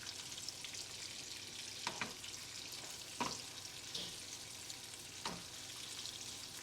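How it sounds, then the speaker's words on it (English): Bacon frying in a pan makes a quiet, continuous sizzle and crackle, with a few brief scrapes from stirring. "Got some bacon going."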